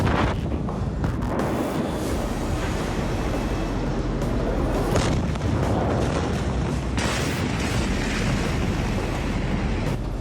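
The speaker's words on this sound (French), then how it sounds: "La déflagration est phénoménale." The 2020 Beirut warehouse explosion of 2,750 tonnes of ammonium nitrate roars and rumbles continuously, deep and loud, with crackling bursts layered over a sustained thunderous wall of sound.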